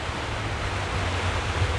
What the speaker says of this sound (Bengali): এই সমুদ্রের ঢেউ